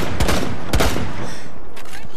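Gunfire in the shooter game Rainbow Six Siege, two loud close shots about half a second apart followed by fainter rapid shots.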